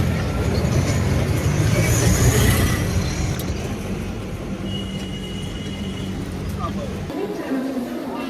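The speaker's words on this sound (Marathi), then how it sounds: "ट्रेन आली आहे, ट्रेन पकडून जाऊन तिथे मी तुम्हाला भेटतो" A train pulls into Thakurli station near Dombivli with a loud, steady rumble of rolling wheels and carriages, fading slightly after the first few seconds, with a voice talking over the platform noise.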